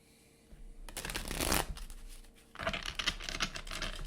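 A deck of tarot cards is shuffled up close in two quick riffling bursts with a short pause between them, crisp and fairly quiet against a still background.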